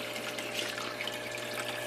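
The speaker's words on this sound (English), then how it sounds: "I've got water running constantly here from the grow tank" Steady, soft trickle of water running constantly from an aquaponics grow tank in a basement, a continuous faint flow with no talking.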